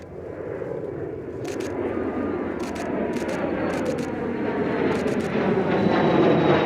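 A Bombardier jet on a flight test passes overhead, a steady broad roar that swells gradually louder as it nears, with no talking.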